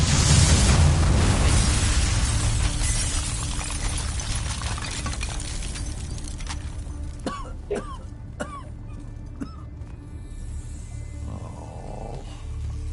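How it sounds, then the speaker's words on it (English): A porch explodes in Immortals of Aveum: a heavy roaring blast opens loudly and slowly fades into rumble, followed by scattered debris clatters and crackles. "I really didn't mean to blow up your porch"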